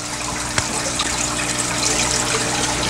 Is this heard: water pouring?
yes